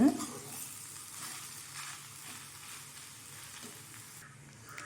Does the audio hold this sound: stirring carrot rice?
yes